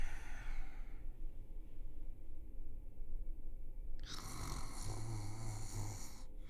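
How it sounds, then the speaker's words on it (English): A woman snores in bed in a quiet bedroom in the morning. Slow, breathy snores rise and fall, then a sharper snorting burst near the end, close and fairly soft. "The woman snores"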